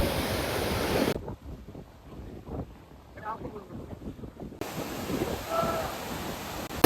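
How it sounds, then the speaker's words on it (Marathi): Water from an overflowing, flooded lake pouring down a waterfall, a broad rushing roar mixed with wind buffeting the microphone, briefly dropping away midway before returning strongly, with someone speaking over it. "बघू शकता तुम्ही किती जोरात पाणी पडालंय खाली"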